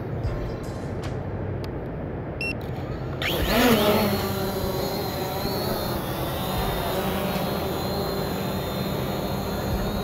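Hubsan Zino drone taking off outdoors in a cemetery: a sudden loud propeller whine spools up and holds as a steady close buzz, after a few faint clicks in quiet background noise.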